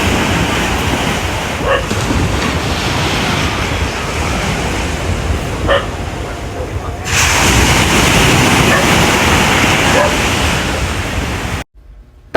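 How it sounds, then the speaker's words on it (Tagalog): Ocean waves crashing on Patungan Beach at night, a loud continuous roar of surf that swells and pulses, with a dog barking briefly in the distance before the sound cuts off. "ngayon ay hampas na lang ng alon ng maririnig"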